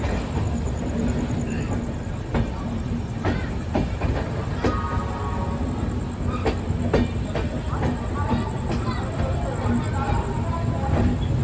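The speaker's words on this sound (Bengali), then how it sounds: "হাওড়া থেকে এখন ট্রেন চলেছে তার গন্তব্যের দিকে" The Himgiri Express passenger train from Howrah to Jammu rolls along with a continuous rumble and rhythmic clacking of wheels over rail joints, heard from inside a carriage with occasional voices.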